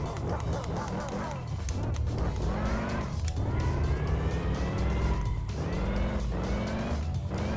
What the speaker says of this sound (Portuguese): Até hoje eu não sei de onde vem esse som, mano. Parece um supercharger, só que o carro é turbo